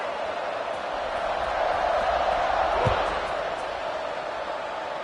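Stadium crowd at a college football game roars steadily through a kickoff, a broad continuous wash of cheering with a brief low thump near the middle.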